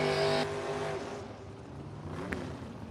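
A 1963 Corvette race car engine snarls with a tonal rev at the start, then drops away into lower background rumble, followed by a short sharp burst near the end.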